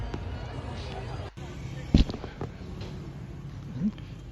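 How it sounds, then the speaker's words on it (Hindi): Fireworks pop and crackle over an Independence Day celebration at Liberty Market in Lahore, with one sharp close burst and fainter distant bangs beneath steady crowd chatter and a voice talking. "ये देखें किस तरह जो है ना वो आतिशबाजी हो रही है।"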